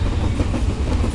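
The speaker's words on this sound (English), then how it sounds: "I'm gonna see this train running on Toy Workshop event tracks" Steady, loud rumbling of a train running on Toy Workshop event tracks in the mobile game Trainstation 2, with a continuous low roar and faint clickety-clack of wheels throughout.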